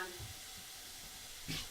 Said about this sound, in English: So I am melting some ghee, about 25 grams,